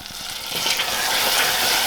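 Hot peanut brittle candy mixture bubbles and sizzles in a pot as vanilla is added and boils off, with a steady, dense frying hiss that builds slightly over a couple of seconds, close and alone.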